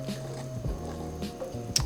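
Heavy whipping cream slowly poured into a pan for creamy garlic chicken, a soft, quiet liquid squish and drip with a faint low hum underneath.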